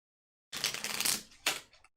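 Playing cards shuffled by hand at a tabletop board game session, a close, crisp riffling burst lasting under a second followed by a brief second flutter, clear against silence with no talking.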